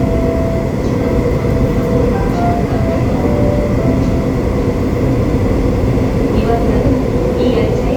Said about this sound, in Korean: 다시 제속도를 내기 시작한 열차는